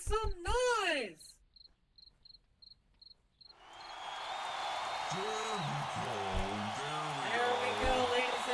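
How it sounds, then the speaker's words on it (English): Crickets chirp as a comic sound effect at a wrestling event: a series of about seven short, evenly spaced, high chirps in near quiet, after a voice and before a swelling crowd roar with cheering. "why am I hearing crickets?"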